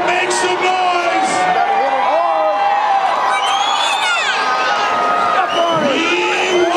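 A crowd at a Tuff Trucks off-road truck event in Chehalis, Washington, cheers, whoops and shouts continuously and loudly, with children's voices and yells mixed into the noise.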